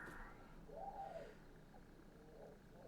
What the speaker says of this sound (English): We have wood pigeons.